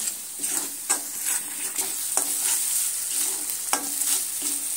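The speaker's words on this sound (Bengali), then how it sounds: "হলুদ আর নুনটা দিয়ে আবারও মিনিট 2 মতন আবারও কষিয়ে নিচ্ছি।" Potato curry masala with turmeric and salt being stirred and fried in a pan, a steady soft sizzle broken by repeated scraping stirs at an uneven rhythm, close and moderately quiet with no talking.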